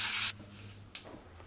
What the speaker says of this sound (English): bit of that non-stick cooking spray to the sides and bottom